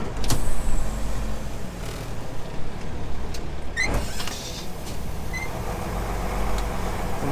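An MBtrac 1100 tractor's engine runs with a steady, fairly loud low rumble that swells at the start. A brief sharp clank cuts in around the middle of the clip.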